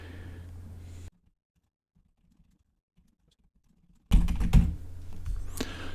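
Typing on a computer keyboard while entering ad text, a close clatter of key presses after a stretch of near silence.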